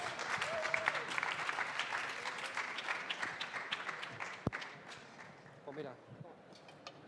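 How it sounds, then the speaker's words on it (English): Audience applause for a panel of five tech-leader panelists on a conference stage, steady dense clapping that gradually thins and fades toward the end, with a few scattered voices underneath. "So now it's time for the applause."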